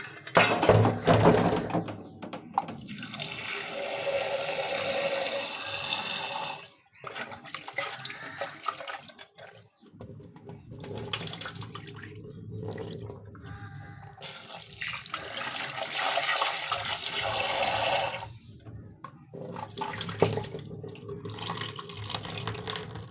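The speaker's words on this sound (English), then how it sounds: "So first of all, I'm going to wash my meat." Meat rinsed under a running kitchen tap: steady gushing water into a sink, interrupted by a few short pauses and knocks as it is handled.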